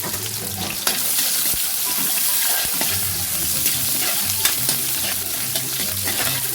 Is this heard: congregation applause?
no